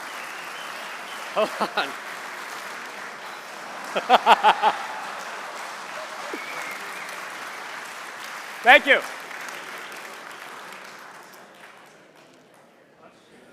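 Clapping from a lecture audience at a Civil War photography talk, a broad wash of applause throughout, with someone speaking briefly over it in a few short bursts.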